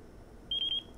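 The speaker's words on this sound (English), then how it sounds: "You would still bind the receiver like you would any FrSky thing by selecting bind" A FrSky radio transmitter gives a short series of about three quick, clear electronic beeps while binding to a receiver, fairly close and alone over faint background hiss.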